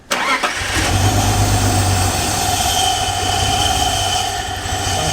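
An old car engine, the owner's first car, under restoration work, cranks and catches, then settles into a loud, rough, uneven idle that keeps running steadily.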